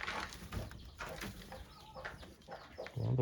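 A small hen clucks softly in a coop, a few short, faint calls close by over a quiet background.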